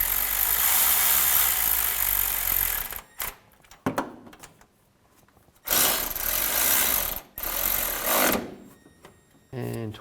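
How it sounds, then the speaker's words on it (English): A power tool rattles in loud bursts while tightening tensioner bolts on a 2000-08 GMC Yukon during an AC belt and tensioner job, with several separate runs broken by short quiet gaps. "and tighten the bolts down"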